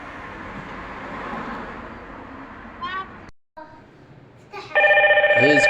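An outdoor door station of a dual-door IP intercom system placing a call: after a muffled stretch of room noise and talk, rising chirps, then a loud steady electronic ring tone near the end.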